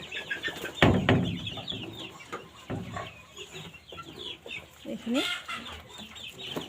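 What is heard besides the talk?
chicks clucking in a room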